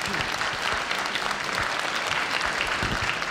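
Steady, energetic applause from a festival audience fills the space, many hands clapping together at moderate loudness for a few seconds.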